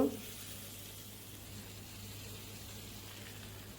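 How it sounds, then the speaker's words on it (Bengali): Fish sizzling in hot oil in a wok, a steady, quiet hiss of frying that carries on evenly throughout, with no talking. "এখন কড়াই গরম করে তেল দিয়ে দিলাম সবগুলো মাছ আমি দিয়ে দিব মাছগুলোকে একটু কড়া ভাজা দিয়ে নেব"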